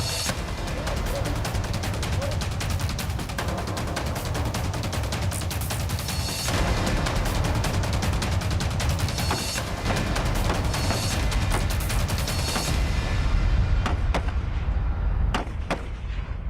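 Soldiers posted at the border fire new assault rifles during a counter-insurgency practice drill, with dense, continuous rattling bursts of gunfire, loud and overlapping, thinning to a few sharp isolated shots near the end.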